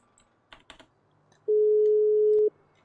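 Outgoing phone call in a GTA 5 roleplay game: a few faint clicks, then a single steady ringback tone lasting about one second, clear and alone.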